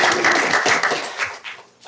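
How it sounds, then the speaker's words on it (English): An audience at a school district board meeting breaks into loud, dense applause that fades toward the end, with some talk mixed in. "that's applause."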